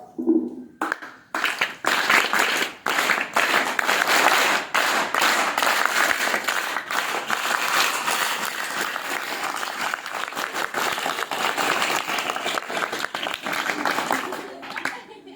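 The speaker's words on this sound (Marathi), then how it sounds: "तुमच्या मुख्याध्यापकांसाठी टाळ्यांचा मला कडकडाट हवा" An audience of schoolchildren breaks into loud, sustained applause for their headmaster, dense clapping that starts with a few scattered claps and then holds steady, filling the room.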